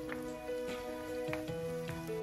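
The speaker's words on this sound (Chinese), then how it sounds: "再加入少许姜蒜末爆香。" Minced ginger and garlic sizzle in a spoonful of hot salad oil in a wok, a steady close frying hiss with small bursts of crackle, over a faint tonal hum.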